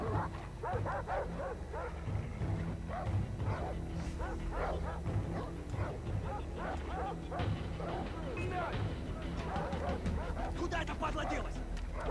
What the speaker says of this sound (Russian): Опять какие-то собаки.